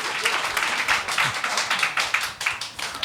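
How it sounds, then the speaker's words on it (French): Clapping from a small group in a talk-show studio, irregular and fairly close, with scattered individual claps and some voices mixed in. "On peut applaudir."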